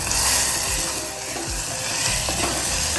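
Medium-sized tomatoes go into a pan of hot oil for chicken curry, producing a loud, dense, continuous sizzle with scattered crackles and stirring scrapes, close up and with no talking.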